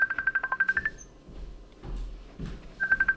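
A Skype call rings on a computer as a fast burst of high electronic pulses that stops, leaves a short gap with faint background noise, then starts again, close and clear.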